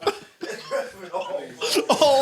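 A person coughs during a podcast conversation, a short rough cough mixed in with talk and laughter.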